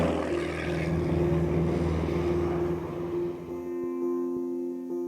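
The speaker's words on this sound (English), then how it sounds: "For me, it's when the airplane flies away." A propeller airplane departs from a remote wilderness area, its steady engine drone loud at first and then thinning out as it flies off, leaving quieter tonal hum at the end.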